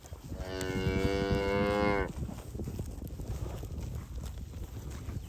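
A cow lets out one loud, close, drawn-out moo in a pasture with calves, followed by quieter rustling and shuffling of livestock moving nearby.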